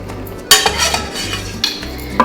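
A spoon stirs chicken and kidney beans in a pot of heavy tomato sauce, scraping and clinking against the metal pot in a few close, distinct strokes over a low steady hum.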